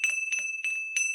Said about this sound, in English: Group 2, you get the big iron bell.